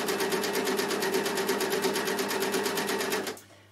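A Bernina L450 overlocker runs steadily, stitching and trimming the edge of a fabric scarf with a fast, even mechanical whir at close range, then stops abruptly near the end.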